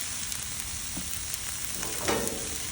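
Corn and minced garlic sizzle in a pan as spatulas stir them, a constant bright hiss with a few soft scrapes and a swelling burst of crackle near the end, with no talking.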